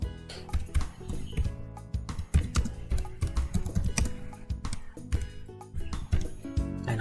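Keys on a computer keyboard tapped in quick irregular bursts, close and clear, with short pauses between runs of clicks, used while drafting a waistcoat pattern with a welt pocket in software.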